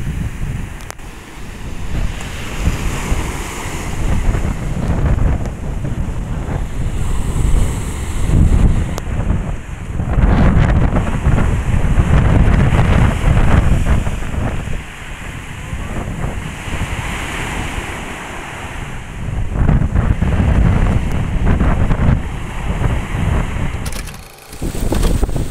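Surf rolls and crashes continuously at Ngrenehan beach in Gunungkidul, Yogyakarta, under strong wind gusts that buffet the microphone, loud and close throughout.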